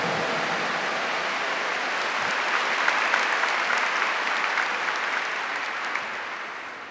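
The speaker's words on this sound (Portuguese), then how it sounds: "Give the Lord a big clap for that." A church congregation applauds in a smooth, dense wash of clapping that holds steady for about seven seconds, then gently fades.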